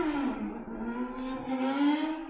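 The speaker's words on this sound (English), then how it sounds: "Can you guys hear the motorcycle out there?" A motorcycle revs hard outside at night, a steady droning engine note rising and falling slightly at moderate distance, with no voices over it.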